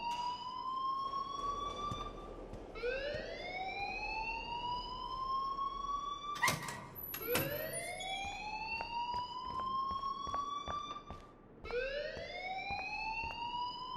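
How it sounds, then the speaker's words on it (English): A school alarm in the video game Life is Strange wails in long rising sweeps, repeating about every three to four seconds, loud and steady, with a brief clatter midway. "please turn off that alarm since that's your job"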